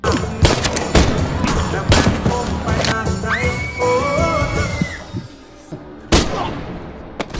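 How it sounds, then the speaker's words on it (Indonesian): Rapid bursts of gunfire crackle amid a dense action-film soundtrack, with sharp loud cracks breaking through music and effects. "Di sini Reno langsung memberondong mereka dengan tembakan dan menyisakan satu orang."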